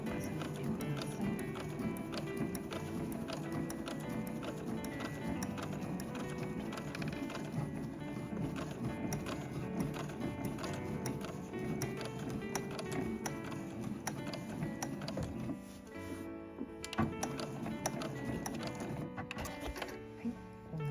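Home sewing machine stitching heavy canvas for a zippered two-way tote bag, running steadily with a fast, dense mechanical ticking and whirring, briefly easing near the end, with no voices.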